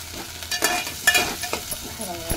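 Ground onion masala paste frying in oil in a pan, crackling sizzle with sharp stirring scrapes and a few spoon knocks, close and steady over a short stretch.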